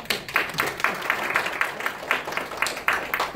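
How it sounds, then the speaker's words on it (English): Audience at a legislative conference session gives a modest round of applause, with scattered rhythmic clapping from a small group, fairly close, in distinct bursts. "How about a round of applause for them?"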